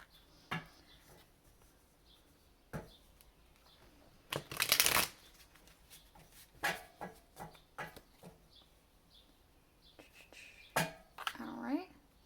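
Tarot cards being shuffled by hand, soft riffling and papery flicks in scattered bursts, with one longer, louder shuffle in the middle and a few quieter ones after, close and alone.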